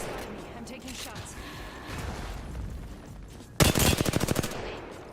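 Rapid automatic gunfire bursts out in the video game Apex Legends, a loud rattling volley of shots following several seconds of quieter game ambience and background sounds.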